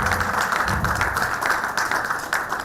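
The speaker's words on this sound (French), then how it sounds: "Un tonnerre d'applaudissements." Steady applause from the audience at a Lions Club district governor's official visit to a zone, dense and continuous throughout at moderate loudness, with no talking over it.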